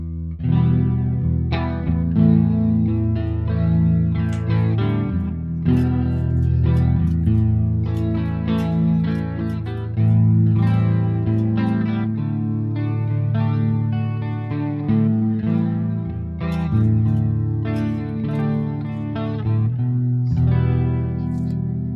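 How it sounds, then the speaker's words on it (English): A Samick Malibu MMB-1 electric guitar on its bridge pickup with chorus and reverb plays a continuous melodic passage of picked notes and chords, close and loud, with no talking. "There is a fair amount of chorus and reverb on it, but it'll give you an idea what the pickups sound like."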